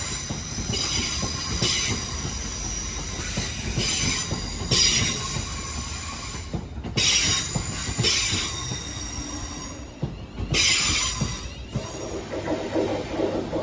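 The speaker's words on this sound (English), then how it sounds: "here's the 12:06 London Northwestern Railway service to Buckby from London Euston." A London Northwestern Railway passenger train passes through Northampton with a steady rumble of wheels on rails and repeated high squeals from the wheels, fairly close, with no voices over it.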